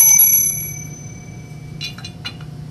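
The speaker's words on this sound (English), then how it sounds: "And a bell or other percussive instrument." A bell used in a smudging ritual rings out bright and loud, its tone fading over about a second, followed by a few faint metallic clinks in a quiet room.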